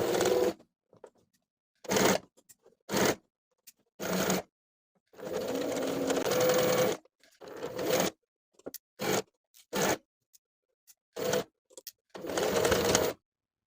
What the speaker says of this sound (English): I'll stitch in the ditch of the main collar stand seam from one side to the other